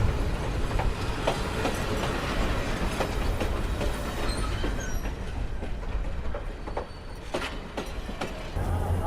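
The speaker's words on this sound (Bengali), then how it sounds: "আমাদের এই তিস্তি এক্সপ্রেস ট্রেন আবার গন্তব্যের উদ্দেশ্যে রওনা হলো" Teesta Express passenger train rolling out of Joydebpur junction station at Gazipur, heard from on board as a loud, continuous rumble with rhythmic wheel clacks and rattling carriages throughout.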